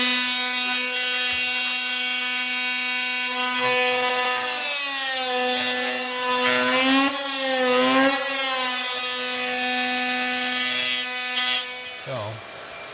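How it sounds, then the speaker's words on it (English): A power saw cuts through material during a house renovation, a loud sustained whine whose pitch dips and wavers midway as the blade loads, then winds down abruptly near the end; close and continuous with no talk. "So I'm gonna go ahead and cut this, Michael."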